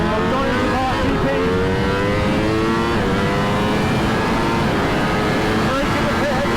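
A Ducati V4S motorcycle on track at Donington Park GP circuit, its engine note rising and falling through gear changes across the lap, loud and continuous with a rider speaking over it.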